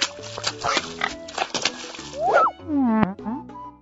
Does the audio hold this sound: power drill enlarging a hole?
no